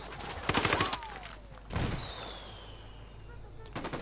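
Mortar blasts and rifle fire in the Ghost Recon Wildlands game come in sharp, loud bursts, separated by brief lulls, with a whistling streak between the shots.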